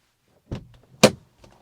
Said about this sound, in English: Open the door, shut the door.